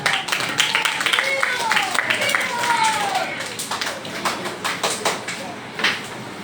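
Children clapping together in a classroom: a run of sharp, fairly rhythmic hand claps that come in bursts and fade toward the end, with young voices chiming in around them.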